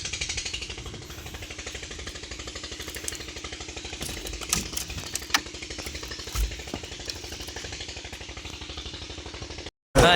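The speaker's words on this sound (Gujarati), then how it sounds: "આપણું ટ્રેક્ટર." A farm tractor hauling a load of wood runs with a steady, rattling, chugging engine drone, loud and unbroken for the whole stretch, with a brief dropout near the end.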